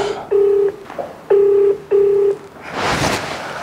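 Touch-tone phone keypad dialing a call: three steady electronic beeps of about half a second each, close and clear, followed by a brief burst of rustling noise.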